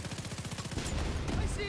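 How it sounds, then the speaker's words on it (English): A grenade launcher fired blind in a video game: a quick, evenly pulsing run of shots at moderate loudness, then a broad burst of blasts filling the rest of the moment. "Blind firing a grenade launcher is, I feel, pretty special thing to do."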